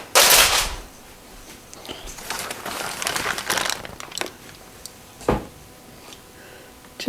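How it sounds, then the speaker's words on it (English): Aluminium foil is peeled off a rack of smoked St Louis ribs cooked on a Weber Smokey Mountain, giving close crinkling and crumpling bursts at the start and middle, with a few sharper rustles and handling sounds between quieter moments. "Take our foil off."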